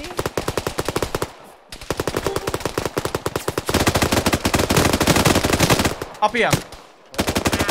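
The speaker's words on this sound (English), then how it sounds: "who wants to shoot some enemies using a fucking dish gun?" A dish gun fires rapidly in Arma 3, loud automatic bursts of evenly spaced shots with short breaks between strings, and a voice speaks briefly.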